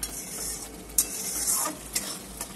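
Spice masala with dried fenugreek leaves (kasuri methi) stirred in a hot pan for a Bengali boal fish curry, a steady sizzle broken by a few sharp scrapes of the spoon against the pan.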